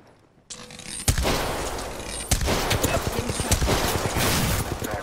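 Rapid automatic fire from a Devotion light machine gun in Apex Legends, bursts of shots rattling steadily and loudly for several seconds after a brief quiet start.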